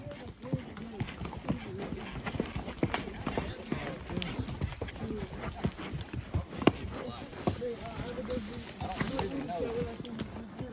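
Steady clip-clop of a Missouri Fox Trotter gelding's hooves in a quick, even foxtrot gait throughout, with people talking over it.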